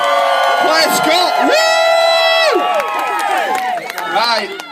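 Wedding guests cheer, whoop and shout for a woman at a reception, a loud close crowd of overlapping voices rising and falling over nearly five seconds, with a few claps mixed in.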